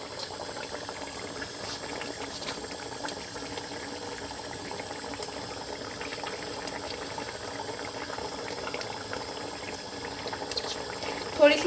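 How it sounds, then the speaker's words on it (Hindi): Mutton chaanp karahi with yogurt bubbles and sizzles over high heat, a continuous close crackling simmer that stays even throughout, with a small louder burst at the very end. "तेज़ आंच पे हमने इसकी बुनाई करनी है।"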